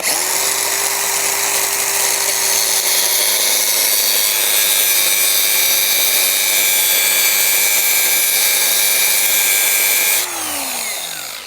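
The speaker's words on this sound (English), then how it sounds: "I'm going to put a slot in here so we can use a screwdriver to screw it in the hole." A power tool cutting a screwdriver slot into a BOMAG trench compactor drum part, a loud continuous grinding whine held steady for about ten seconds before spinning down at the end.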